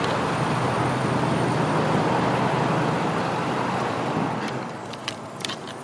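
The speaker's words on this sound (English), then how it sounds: "The best part about that job is going to be not sitting in this traffic every day. That's a lot of traffic." Dense road traffic roars steadily and close by, a broad continuous wash of passing vehicles that eases slightly toward the end, with a few faint higher sounds at the close.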